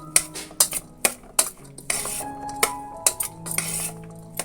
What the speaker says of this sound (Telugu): ఇప్పుడు వీటన్నిటిని బాగా కలుపుకోవాలి.